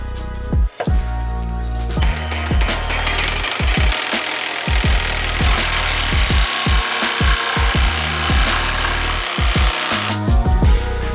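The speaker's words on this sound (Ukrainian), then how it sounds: "перевіримо, як лобзик буде робити фігурний різ" Revolt cordless jigsaw cutting a curved line through a wooden board, a steady loud buzzing saw with rapid rhythmic strokes running almost continuously for about ten seconds, brief pauses near the start and end.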